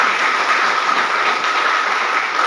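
An audience at a seminar gives a sustained, dense burst of applause, loud and close, holding steady throughout without pause.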